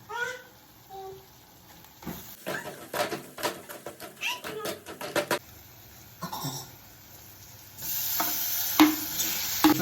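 Prawns seasoned with pepper fry in a home kitchen pan as a spoon stirs them in a quick run of scraping, clattering strokes. A soft sizzle carries underneath and grows louder near the end, and a brief voice sounds at the start.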